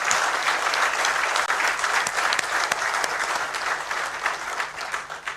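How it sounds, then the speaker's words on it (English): An audience at a public lecture gives a steady round of applause, dense and continuous with a few sharper claps standing out, easing slightly toward the end. "I think they deserve another round of applause"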